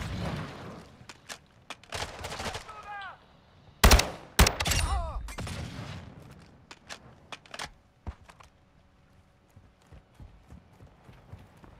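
Call of Duty: Modern Warfare II DMZ gameplay carries sharp gunshots and a dense burst of loud rapid fire near the middle, then scattered quieter shots and clicks trailing off, set against ambient battlefield noise.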